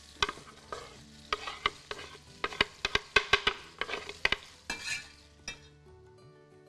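Mixed peppers sizzle and fry in a pot while being stirred, with repeated sharp utensil clinks against the metal in an uneven rhythm, close up and without talk, as the base for an Anatolian chicken tas kebab.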